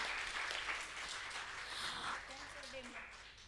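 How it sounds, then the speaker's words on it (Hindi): Festival crowd in Pune applauds an art group's gift of a large painting: a broad, sustained wash of clapping that stays fairly even and slightly distant, with a voice talking over it. "सो इस बात के लिए भी ज़ोरदार तालियां हो जाए एक बार।"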